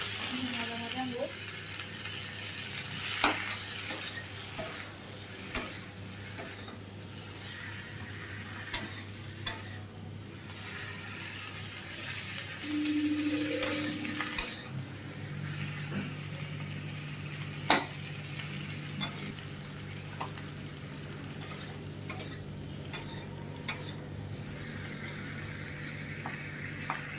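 Chili chicken frying in a pan with salt and capsicum gives off a faint, steady sizzle, broken by sharp clicks and taps of stirring against the pan.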